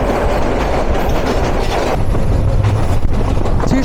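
Train wheels clatter along metre-gauge railway track in Bangladesh: loud, continuous rolling rumble with rhythmic clickety-clack beats and a faint squeal, heard from close by on board.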